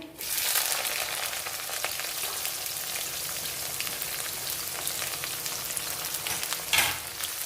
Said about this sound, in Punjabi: ਪਿਆਜ਼ ਨੂੰ ਹਲਕਾ ਗੁਲਾਬੀ ਕਰ ਲੈਣਾ